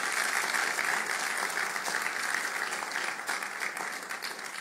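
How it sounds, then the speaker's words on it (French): An audience applauds after a presenter's talk at a French-language event, a dense and steady wash of clapping that holds for the whole stretch and fades only slightly toward the end. "nous t'avons applaudi."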